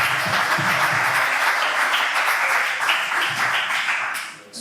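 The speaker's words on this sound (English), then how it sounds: "Let's all give a round of applause for Alex one more time." An audience applauds Alex at a one-year anniversary meet-up and presentation, producing dense, steady clapping that fills the room at a loud level for several seconds before fading at the end.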